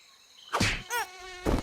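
A mosquito's high, thin whine in three separate passes, the middle one wavering in pitch, each rising and fading as the insect flies close to the microphone, with no talk.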